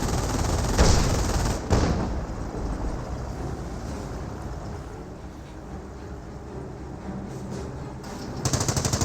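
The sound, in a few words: machine gun fire in Company of Heroes video game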